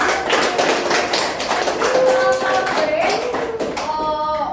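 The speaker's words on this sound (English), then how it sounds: "give applause to our" Applause from a classroom audience after a student science presentation, a dense patter of close, loud hand claps carrying on throughout with brief voices and tonal chatter mixed in near the end.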